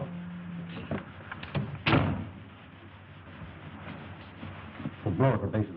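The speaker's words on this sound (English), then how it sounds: "Close the door." A door is shut in a 1937 mystery film scene, landing as one solid thud in the middle of low room tone, with voices briefly before and after.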